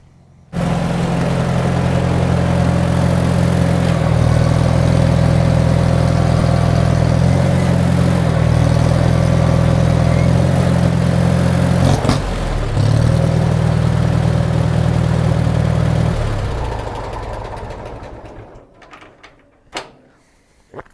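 The engine of a Farmall 140 tractor idles loudly and steadily close by, with a brief dip in the middle, then dies away as it is shut off, leaving a few clanks.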